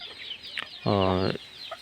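Chickens at a small poultry farm give one clear, close cluck call mid-clip, with faint scattered farmyard sounds around it and no talking.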